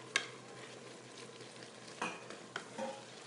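Garlic is stirred into browned mushrooms and Vidalia onion in a pan for spaghetti sauce, a low steady sizzle broken by a few scraping utensil knocks against the cookware.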